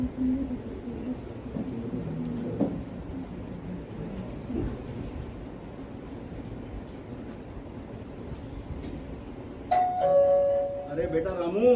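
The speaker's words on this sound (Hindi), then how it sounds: "घंटी बज रही है" A doorbell chimes in a home during a stage play, a bright tonal ding ringing out clearly near the end after a stretch of murmured background noise, with people talking around it.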